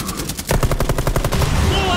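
Rapid automatic gunfire in a video game match, a loud close burst of evenly spaced shots running the whole two seconds over game background noise.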